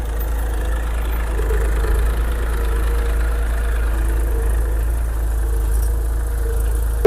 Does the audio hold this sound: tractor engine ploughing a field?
yes